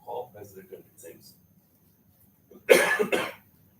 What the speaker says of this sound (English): My cough has returned, it seems.